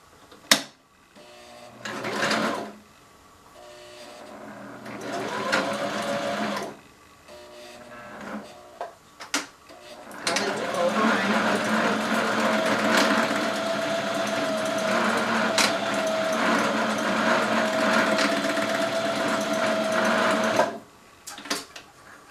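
A sewing machine runs a zigzag stitch joining two ends of elastic. There are a few short bursts at first, then a long, steady, close whirring run of about ten seconds that stops abruptly.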